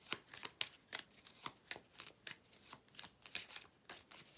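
A tarot card deck being shuffled, riffling in quick rhythmic bursts roughly every half second, close and fairly quiet with no talking.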